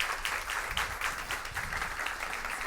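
Spectators applaud the players after a high school match between Lycée du National Cent Cinquantenaire and Lycée Jacques Roumain, a steady moderate patter of many hands heard from a distance.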